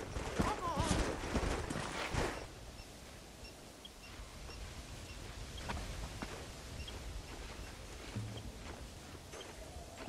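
Horses in Red Dead Redemption clip-clop along in a steady patter of hoofbeats, loudest at the start, with a voice over them and a wash of ambient wind noise throughout.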